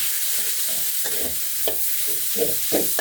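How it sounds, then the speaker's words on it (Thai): Minced pork with chili and garlic is stir-fried in a pan, a soft steady sizzle broken by repeated scraping strokes of a spatula, close and moderately loud, with no voices. "หมูบดต้องมาผัดครับ ผัดให้สุกเลยครับ"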